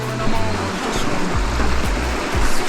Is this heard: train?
no